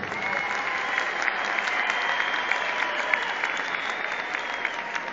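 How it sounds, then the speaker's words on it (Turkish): Sustained crowd applause at a commemoration ceremony for Mehmet Akif Ersoy's death anniversary, an even, dense patter of many hands clapping at moderate distance, uninterrupted and without speech. "koskocaman bir alkış istiyorum"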